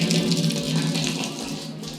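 Homebrew wort draining from a mash tun, a steady close rush of pouring liquid that runs continuously, alone.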